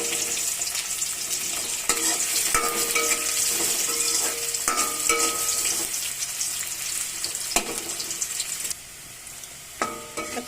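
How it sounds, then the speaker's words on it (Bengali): Onions frying in oil alongside dried red chillies and bay leaves for a cauliflower-tomato dal, with a steady close sizzle and repeated sharp clinks of a spoon stirring against the pan, no voices. "পেঁয়াজটা একটু লাল লাল করে ভালোভাবে ভাজা ভাজা করে নেব।"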